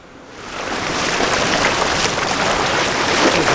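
Wading across a cold, fairly deep creek on foot where it flows into a larger body of water at a remote camping spot, with broadband rushing and splashing water that builds over the first second and holds steady, no talk.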